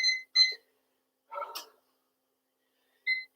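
During a jump rope workout, an electronic workout timer gives short, bright beeps, a pair at the start and another near the end, separated by quiet, with a faint shuffle between them.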